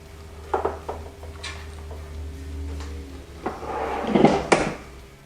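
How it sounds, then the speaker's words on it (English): Oreo cookies wrapped in pastry set into an air fryer basket drawer, a few light clicks and a louder sliding clatter of the drawer near the end, close and quiet with a low hum beneath. "just put our Oreos into our air fryer"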